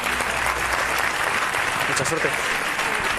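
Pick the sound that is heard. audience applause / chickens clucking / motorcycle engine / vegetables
audience applause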